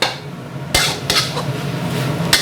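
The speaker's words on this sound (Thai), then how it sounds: "แบบนี้แล้วก็คั่วไปเรื่อยๆจนกว่าจะแห้งนะครับ" Minced pork chilli dip with fermented fish is dry-roasted in a pan, with a utensil scraping and clanking against the metal in a few sharp strokes over a low background sizzle.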